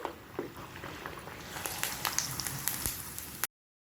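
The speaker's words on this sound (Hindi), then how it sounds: "ये तीसरा पापड़ भी मैं फुला रही हूँ तेल में" Sabudana papad frying in hot oil as it puffs up: a soft, bubbling sizzle with crackles that cuts off abruptly near the end.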